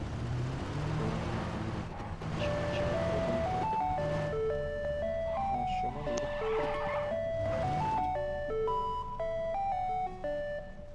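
Car driving in the video game PUBG: a steady engine drone runs throughout under a melodic jingle of stepped tones, fairly loud and continuous.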